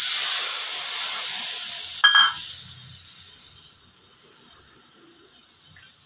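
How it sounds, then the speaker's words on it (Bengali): Water poured into hot fried spice masala in a pan for a jhol, with a loud hiss of sizzle and steam that fades gradually, along with a brief sharp clatter, and no talk. "মশলাটা আমার কষানো হয়ে গেছে, এবার একটু ঝোল দিয়ে দিচ্ছি।"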